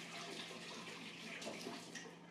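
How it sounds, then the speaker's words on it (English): Water runs steadily from a kitchen sink tap during a hand wash, a continuous close splashing hiss with no break. "So wash off my hands real quick."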